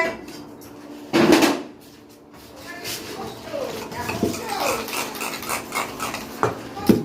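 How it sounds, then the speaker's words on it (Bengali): Cake batter being stirred with ghee for a rustic village cake baked on a clay stove: a spoon scrapes and clinks against the bowl in irregular strokes, with one louder knock early on and faint voices in the background. "এবার আমি কি করবো এই ঘিটা দিয়ে আমি খুব সুন্দর করে এটা মিশিয়ে নেব"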